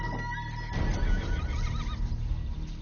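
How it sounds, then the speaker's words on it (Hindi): Several horses stopped along a road whinny loudly and close by, with rising and falling neighs overlapping, and faint hoof clops beneath. "क्या रे, यहाँ इतने सारे घोड़े क्यों हैं?"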